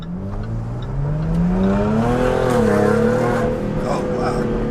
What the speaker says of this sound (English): See what this exhaust sounds like.